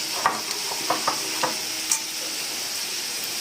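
Chili sauce and chopped onion are stirred in a frying pan, with a soft steady sizzle under a few scraping strokes of the spoon, close and moderately loud, with no speech.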